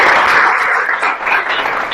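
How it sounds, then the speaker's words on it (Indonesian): A room of participants at a university lecture session applauds briefly, with dense, close clapping that holds steady for about two seconds. "Oke, aplaus buat teman-teman."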